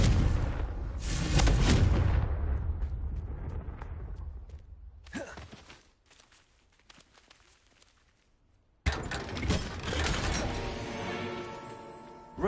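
Confringo fire-blasting spell cast in Hogwarts Legacy: a heavy booming blast with rumbling decay, a quieter stretch of clicks and creaks, then a second sharp burst of crackling impact noise.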